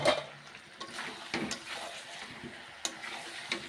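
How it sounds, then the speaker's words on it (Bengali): Potatoes go into a pan of braising meat, bringing a quiet sizzle and frying crackle with occasional soft clicks and stirring scrapes. "দেব আলু"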